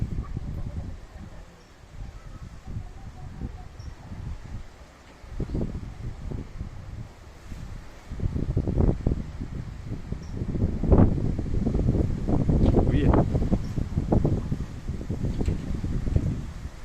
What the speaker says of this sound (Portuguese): Há um vento forte aqui, rapaz do céu.